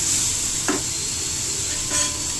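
Tomatoes and coriander sauté in a pan, giving a loud, continuous sizzle with a couple of brief scraping stirs, and no voices.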